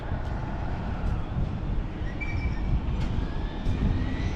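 A JJRC Q117 RC car makes a full-throttle speed run, giving a continuous rushing, rumbling roar with faint high whine that stays fairly steady and loud across the pass.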